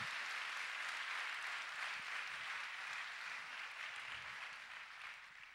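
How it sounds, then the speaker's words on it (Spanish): Church congregation applauding the Lord during a morning service, a steady wash of many hands clapping at moderate distance that holds throughout and fades slightly toward the end. "dele otro aplauso fuerte al Señor en esta mañana"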